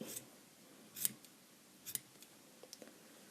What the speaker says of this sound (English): So just take your scissors and kind of trim it.